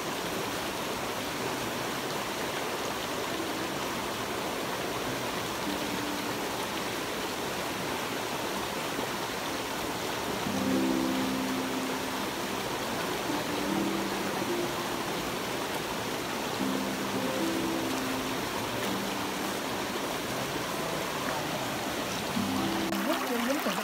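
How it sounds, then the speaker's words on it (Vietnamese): A forest stream babbles steadily along a wading route into the woods, a continuous broad rush of flowing water with no break, fairly loud and close, while faint tonal sounds surface now and then beneath it. "Nước suối róc rách hiền hòa"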